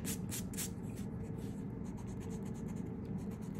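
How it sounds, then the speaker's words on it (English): A pencil drawing of a flower has its guidelines erased, a steady close rubbing and scrubbing of eraser on paper running throughout over a low background hum, with a voice heard faintly. "Just erase all your guidelines."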